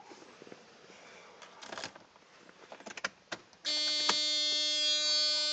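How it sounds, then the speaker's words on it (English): A steady electronic warning buzzer drones continuously inside a 1995 Mercedes S600 with a 6-liter V12, starting abruptly after some faint clicks and rustles. "That buzzer, I don't like it."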